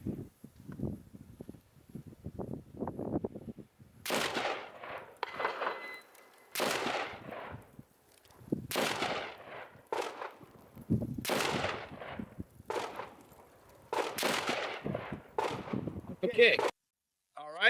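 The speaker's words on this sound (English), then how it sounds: "So we'll go ahead and fire off 5 rounds here." A SCAR H rifle fires five sharp, loud reports at an outdoor range, spaced a few seconds apart with quieter shuffling and faint voices between the shots.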